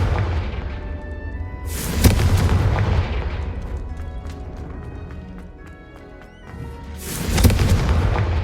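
Confringo spell explosions in the Hogwarts Legacy video game: two loud, close booms several seconds apart, with a rumbling, crackling wash of battle noise between them.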